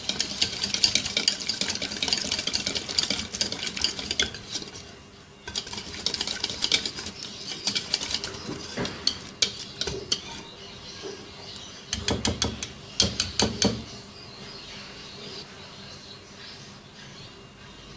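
Spices such as black pepper powder and garam masala being mixed into a chicken marinade for lemon fried chicken, a steady run of close stirring and spoon-against-bowl clatter with bursts of scraping, no talking.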